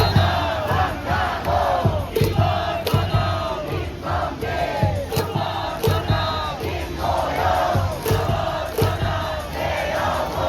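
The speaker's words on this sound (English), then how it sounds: "I'm not gonna talk too much, so you can hear them cheering and everything." A stadium crowd at a Lotte Giants baseball game in Korea cheers and chants in unison, loud rhythmic group shouting with bursts of clapping and noisemakers, continuous for the whole stretch.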